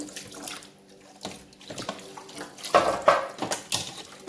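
A kitchen tap runs while dishes are rinsed in the sink, a close, uneven splashing stream with occasional louder gushes and faint clinks.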